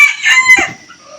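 Red jungle fowl roosters crowing, one loud, close, drawn-out crow rising and falling over about a second, with a fainter call trailing after it.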